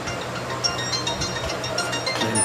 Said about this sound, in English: Please excuse the fan noises